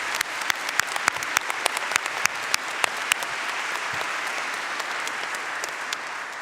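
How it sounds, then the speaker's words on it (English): Audience applause for architecture students receiving honors at a university graduation convocation, steady dense clapping throughout, with a few sharp individual claps standing out near the start. "So let's give another round of applause to all the students who were awarded the Peace's Prize jury."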